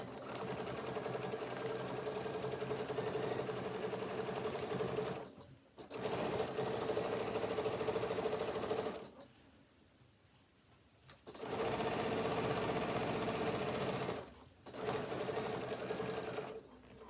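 A sewing machine runs steadily along a fabric edge in long continuous stretches with brief pauses, loud and close, with a quiet speaking voice in a gap.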